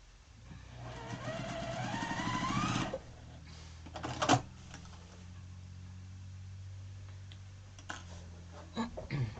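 A sewing machine runs in one steady, buzzing burst for about three seconds as it stitches a triangle piece onto a quilt block corner. It then stops, leaving a quiet room with a few faint clicks and handling noises.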